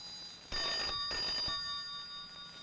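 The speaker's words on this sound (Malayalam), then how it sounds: "ഫോൺ ബെല്ലടിക്കുന്നത് നിനക്ക് കേട്ടൂടെ എന്റെ കുട്ടി?" A telephone bell rings in a classic Malayalam film scene, two clear bursts of ringing close together, fairly faint and alone with no talk over it.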